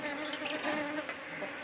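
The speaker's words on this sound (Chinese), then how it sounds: "蜜蜂全都飞来这里" Bees swarming around a basin of freshly boiled beeswax outdoors, a dense continuous buzzing hum of many wings, close and steady with passing individual bees.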